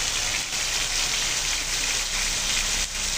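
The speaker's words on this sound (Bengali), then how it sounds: "বাহিরে বৃষ্টি চলতে আছে" Rain pours outside at night in a steady, dense hiss with no letup, heard continuously and fairly loud across the whole stretch.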